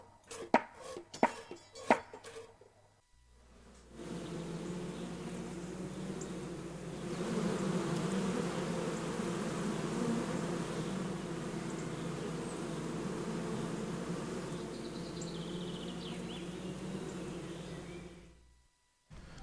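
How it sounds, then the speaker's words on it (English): Bees buzzing around village beehives in a video game, a steady droning hum that rises and holds at moderate volume after a few sharp clicks at the start, then fades out. "So here's the beehives."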